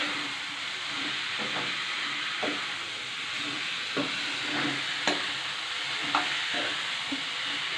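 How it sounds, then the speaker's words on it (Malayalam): Chopped mango is stirred in a hot pan of mango pickle while oil sizzles and hisses steadily underneath; a spoon scrapes and knocks against the pan every second or so, with a brief clink near the middle. "നമ്മൾ മാങ്ങ അരിഞ്ഞത് ചേർത്തിട്ട് നല്ല രീതിയിൽ ഇളക്കാം"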